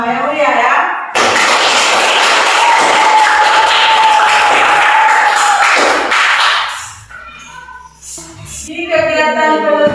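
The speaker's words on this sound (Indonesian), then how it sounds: "Sebagai bentuk apresiasi, kita tepuk tangan untuk diri kita bersama." Students in a classroom clap together as a group. A burst of loud, dense clapping runs for several seconds, fades out, and then gives way to voices.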